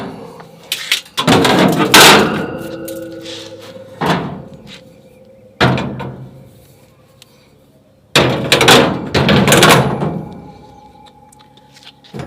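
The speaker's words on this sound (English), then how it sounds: "Let's put the grating back." A metal cooking grate is set back into a foil-lined Z Grills 6002B pellet smoker, making several loud clanks and rattling bursts separated by short pauses, close by with no talking.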